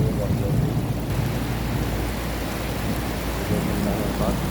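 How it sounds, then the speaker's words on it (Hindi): Steady rain falling on the open Arafat plain, a dense continuous hiss with low rumbling that fits distant thunder, holding at an even level across the clip with no voices. "बारिश हो रही है बहुत ज़रूरी।"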